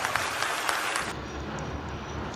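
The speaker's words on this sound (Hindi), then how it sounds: "पहले नंबर तो इन्हें ताली बजा के धन्यवाद दे।" Crowd applause at a religious gathering in a Haryana village, a dense burst of clapping for about a second before fading into a low murmuring room tone.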